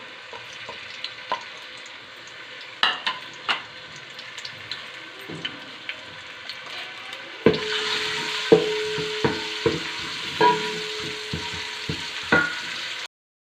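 Ginger garlic paste sizzles steadily in hot oil, with soft scraping stirs, and the frying grows louder and brighter partway through, punctuated by repeated spoon knocks.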